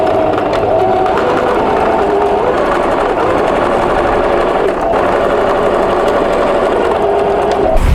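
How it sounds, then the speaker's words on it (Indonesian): A sewing machine stitching a straight seam on a gathered skirt, a loud steady whirring hum running continuously without pause. "Lalu kita jahit lurus."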